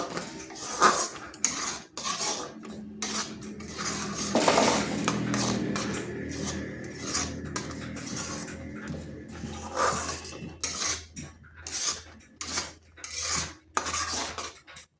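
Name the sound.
sweet mixture being stirred continuously in a pan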